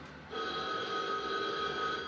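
A telephone rings in a retro video game, a steady electronic bell tone that starts abruptly and holds at a fairly quiet level.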